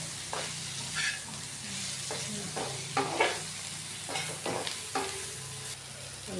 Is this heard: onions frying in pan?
yes